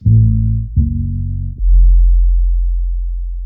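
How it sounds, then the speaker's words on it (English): Deep, smooth half-speed bass notes hold steadily, then a heavy booming 808 hit swells and sustains low to the end. "The bass in the first half is a half-speed version of the half-sped bass notes of the violin"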